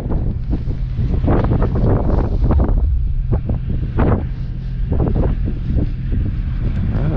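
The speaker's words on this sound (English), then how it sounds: "That wind is a little cold." Cold wind gusting outdoors by a truck and trailer, a steady loud rumble buffeting the microphone across the whole stretch, with no talking.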